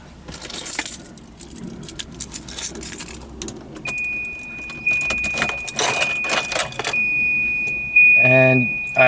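A Volvo 240 wagon's door-open warning chime sounds as a steady, sustained electronic tone from midway onward, mixed with jangling keys, handling clatter and a voice speaking nearby.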